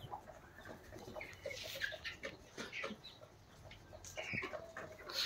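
Chickens cluck and call in a backyard flock, several soft, scattered clucks and chirps at moderate distance over a quiet background, with no speech.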